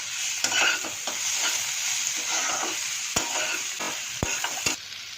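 Tomatoes, capsicum and carrot fry in a pan for paneer bhurji, a steady soft sizzle broken by a few sharp clicks and scrapes of a spatula stirring against the pan.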